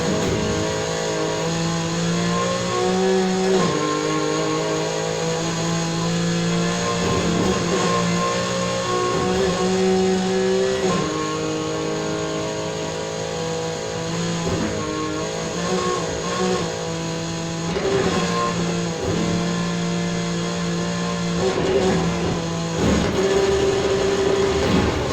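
A 2002 Mazda RX-7 Spirit R rotary engine holds high revs while drifting in Need for Speed Heat, a steady loud droning whine with small pitch shifts as the throttle is worked.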